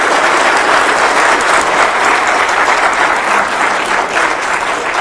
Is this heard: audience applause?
yes